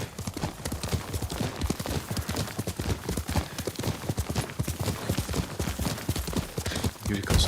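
Horse hooves clop in the video game Ghost of Tsushima, a fast, continuous galloping rhythm that stays loud and close throughout, with no speech.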